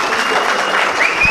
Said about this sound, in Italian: Sono gli applausi